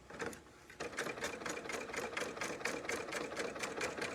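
A Bernina overlocker serger runs close by while sewing a seam, producing a rapid, steady mechanical chatter that starts and stops briefly near the beginning before continuing evenly.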